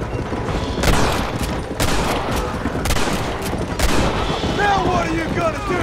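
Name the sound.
gunfire in the Red Dead Redemption video game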